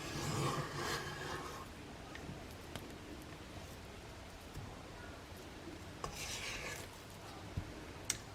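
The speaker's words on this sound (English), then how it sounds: "turn it off, lift your blade or your paddle," A spatula scrapes around the sides of a mixing bowl of soft chocolate chip cookie dough, giving soft, continuous rasping strokes with a few faint clinks, close and fairly quiet.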